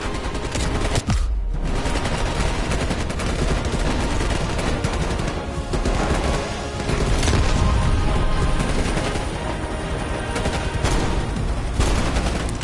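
Dense, loud gunfire from the Call of Duty: Cold War campaign, with rapid automatic bursts and overlapping shots filling the whole stretch and a brief lull near the start, no talk.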